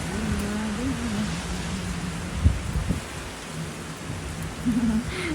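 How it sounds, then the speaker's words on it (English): Steady rain falling in Ottawa, Canada, a dense continuous hiss with a few soft thuds and low rumbles, a faint tonal voice-like hum running underneath. "So keep enjoying with me this natural melodious rain"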